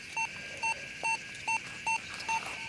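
A metal detector set to four tones, sweeping for coins and relics in the goldfields, sounds a high-pitched signal: six short, clear beeps repeated at a steady, even pace over a faint constant hiss.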